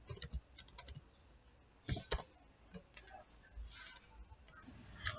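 Quick, irregular clicks of typing on a computer keyboard, fairly close and moderately quiet, with a few louder keystrokes and pauses between bursts.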